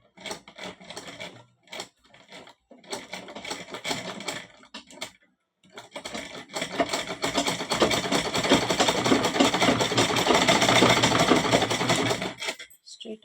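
A sewing machine stitches a straight seam on a pillow cover, running in short stop-start bursts and then one long steady whirring run, close and clear.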